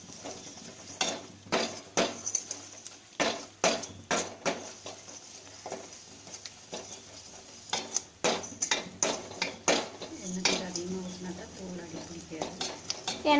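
A spoon stirs fish gravy in a cooking pot, with irregular metallic scrapes and clinks close by over a faint background hum and a soft sizzle toward the end.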